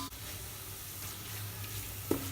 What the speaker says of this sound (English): So we have to fry this until this the ginger garlic paste actually loses the raw flavor